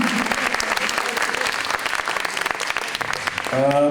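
A comedy show crowd applauding with steady clapping that continues throughout, and a voice starts speaking at the very end.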